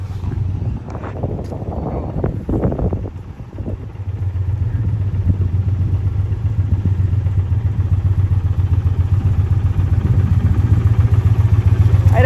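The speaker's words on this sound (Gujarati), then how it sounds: "હાય બાઈક જોરદાર આવ્યું." A motorcycle engine rumbles loudly and steadily at close range, with some clattering and brief talk near the start before the engine settles into a continuous idle.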